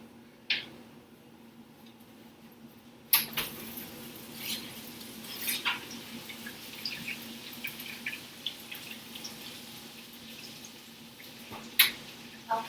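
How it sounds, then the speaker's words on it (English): Sweet potatoes bubble and sizzle in a hot baking pan, giving faint, irregular pops and crackles over a low steady hum, with a few sharper clicks scattered throughout. "sweet potatoes are bubbling"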